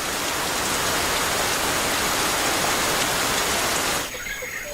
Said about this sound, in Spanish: Aquí llueve casi cada día.